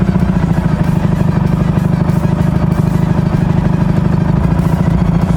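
A Ural motorcycle engine with slightly unsynchronised throttles and a ringing, knocking tone, running on 95-octane petrol, drones loud and close in a steady, unbroken roar.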